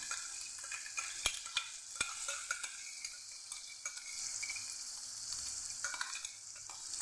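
Masala paste for a Kathiyawadi-style guvar (cluster bean) curry sizzles steadily in a pan, a soft continuous hiss broken by a few sharp clicks of stirring, with no voices.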